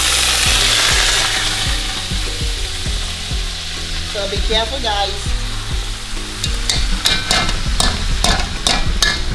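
Rice hits hot oil with shrimp in a pot and is stirred, giving a loud, continuous sizzle broken by scraping and clattering stirring strokes. A voice speaks briefly toward the end.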